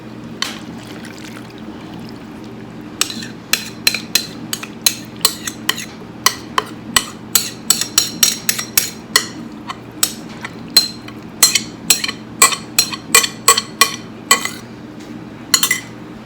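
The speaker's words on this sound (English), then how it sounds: "Just stir it all up so that everything is incorporated" A spoon clinks repeatedly against a casserole dish while tuna casserole noodles are stirred, sharp irregular taps over a faint background hum, close by.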